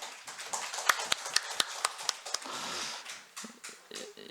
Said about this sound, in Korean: 여러분 격려 박수 하겠습니다